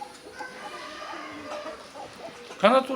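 An Indian game rooster (Aseel) clucks softly among other fowl, with a louder burst of clucking near the end, while someone talks over it.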